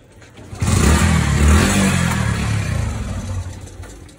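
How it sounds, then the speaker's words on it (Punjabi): A motorcycle that keeps stalling is started and left running. The engine catches after a brief pause, then holds a loud, close, steady idle. "ਬੰਦ ਹੀ ਹੋਈ ਜਾਂਦਾ ਮੋਟਰਸਾਈਕਲ, ਸਟਾਰਟ ਕਰਕੇ ਖੜਾ ਲਓ ਨਾ ਦੋ ਮਿੰਟ।"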